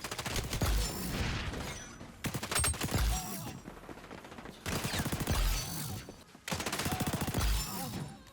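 Rapid automatic gunfire from a Call of Duty-style shooter game, including a P90, rattling in four sustained loud bursts separated by brief gaps.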